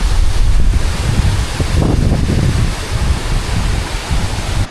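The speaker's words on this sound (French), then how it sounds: "l'eau, quand ça va très fort, eh ben ça éclabousse" Water rushes and splashes hard at the Otira Viaduct in New Zealand, a loud, steady roar with heavy wind buffeting the microphone throughout and no voices.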